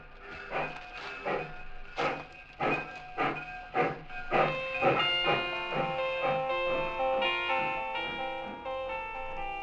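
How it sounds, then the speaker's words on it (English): A steam train chuffs as it pulls away, its rhythmic bursts of exhaust slowing and blending into a steady hiss. "I stood there on the embankment as the train pulled away."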